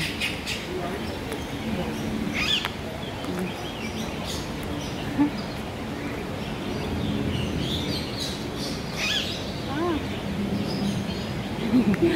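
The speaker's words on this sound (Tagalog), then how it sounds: "Ang ingay ng mga ibon." Birds chirp and squawk repeatedly in the background, fairly loud and busy, with some voices and outdoor noise mixed in.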